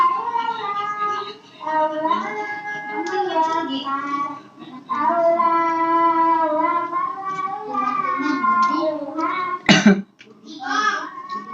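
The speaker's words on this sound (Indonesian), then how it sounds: "saya agak batuk sedikit ya" A single sharp cough near the end, loud and close, following a stretch of steady talking by a voice.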